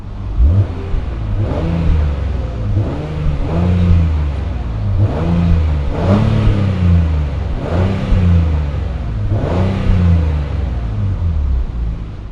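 A 2023 Acura MDX Type S engine accelerating, repeated rising revs with gear-change dips, a loud rumbling mid-range drone heard close up and continuous for about twelve seconds.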